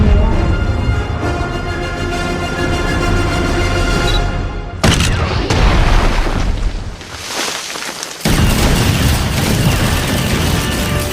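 Guns fire and explosions boom in a loud battle, heavy blasts and bursts rumbling over a droning background, with abrupt cuts between intense stretches.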